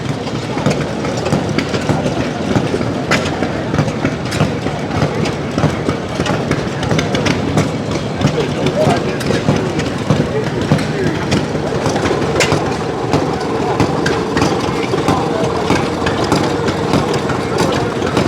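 A steam traction engine at an outdoor tractor show chugs steadily and continuously, a close mechanical rumble with rhythmic clatter and no voices.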